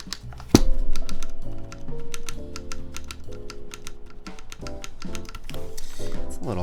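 Close clicky typing on a prototype Merisi Works Ottantaquattro 84 mechanical keyboard with tight stabilizers, rapid irregular keystrokes with occasional deeper thocks from larger keys, continuous throughout with no speech.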